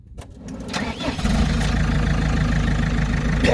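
The engine of a JCB machine cranks briefly and catches after about a second. It then settles into a loud, steady, rumbling idle that runs on without voices.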